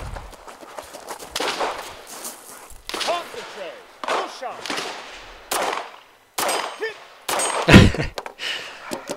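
Air impact gun working on a 2022 Lynx Brutality snowmobile, firing in several loud, close rattling bursts separated by short pauses.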